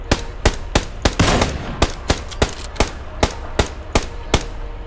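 Gunfire in the video game PUBG, a rapid series of sharp, loud shots at irregular spacing, about a dozen bursts over several seconds with no speech.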